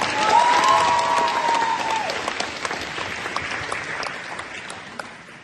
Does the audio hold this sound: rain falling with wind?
no